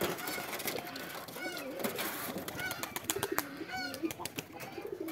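A pair of pigeons coo to each other during courtship, head-bobbing, in a steady murmuring stream with faint flutters and soft taps.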